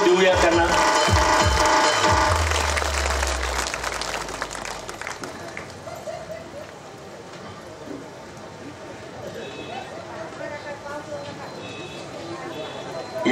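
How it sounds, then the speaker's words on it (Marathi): An audience claps together for a birthday blessing at a gathering. The applause is loud and dense at first and fades into scattered clapping while someone speaks over it. "वाढदिवसाचा आशीर्वाद आपण सगळेजण टाळ्या वाजवून देऊया त्यांना"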